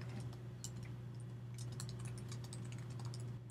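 Soft, quick tapping on a computer keyboard while captions are typed, faint and irregular over a steady low hum, with no voices.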